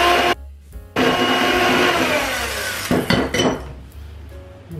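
An electric mixer whirs loudly while beating eggs with sugar for a keto Swiss roll, running steadily with brief cut-offs and clinks of beaters against the bowl near the start and end.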